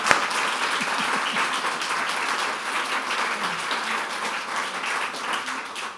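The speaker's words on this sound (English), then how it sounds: "I just want to give them another round of applause" A seated audience at a panel discussion about changing a bad law applauds steadily and densely for six seconds after the conversation ends, with no talking over it.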